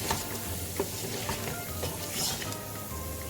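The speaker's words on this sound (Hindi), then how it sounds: "इसे फ्राई करें 1 मिनट के लिए" Spices fry in a pan for green chicken karahi with a steady, close sizzle, broken now and then by faint clicks of stirring.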